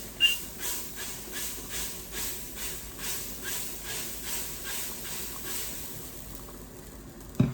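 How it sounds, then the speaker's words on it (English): Cooking spray hissing into a Dutch pot, a series of about a dozen short, evenly spaced bursts of soft spray noise, fairly close and faint, with a small clunk at the very end. "I'm gonna use spray light to spray my Dutch pot."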